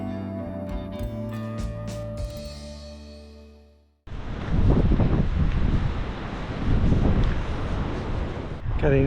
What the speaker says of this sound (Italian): Le onde che provocano questi spruzzi